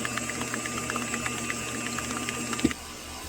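Electric hand mixer whipping cream cheese cake batter for a pineapple upside-down cake, a steady close motor whir with rattling beaters, ending in a brief clunk.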